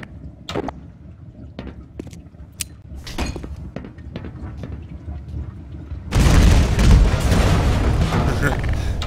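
A rumbling double explosion in the video game Black Mesa erupts loudly after a stretch of quieter thuds and clanks, the blast noise sustained and roaring to the end.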